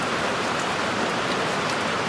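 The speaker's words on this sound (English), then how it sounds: "I'll let you listen to some music instead of listening to it rain." Steady rain pours outside in a dense, even hiss of drops striking surfaces, continuous and fairly loud throughout with no voices.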